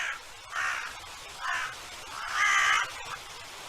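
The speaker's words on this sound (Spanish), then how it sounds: "El molesto graznido de los cuervos no pasa desapercibido para el raposo" Crows cawing near carrion in a snowy wild landscape, a series of harsh, repeated calls in uneven bursts, one louder and longer near the end, over a faint background.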